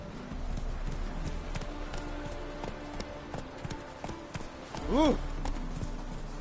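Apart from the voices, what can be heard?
horse hooves in video game The Witcher 3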